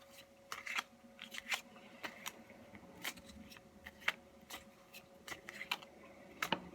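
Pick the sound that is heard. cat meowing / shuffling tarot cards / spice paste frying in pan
shuffling tarot cards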